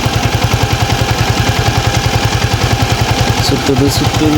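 Yamaha MT15 motorcycle radiator fan spinning with the engine idling, a loud steady rhythmic low thumping beneath a constant whirring hum, close by, with a few faint sharp clicks near the end.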